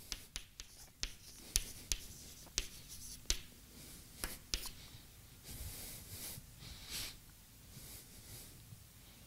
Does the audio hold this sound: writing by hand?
yes